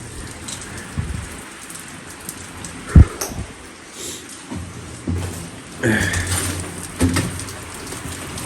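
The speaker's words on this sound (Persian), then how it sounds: "چون صداهای خفیف قطرات بارون هم نمیذاره درست بشنویم." Steady rain falls on a rainy night, a constant dense patter with occasional louder drops and splashes close by, no talking.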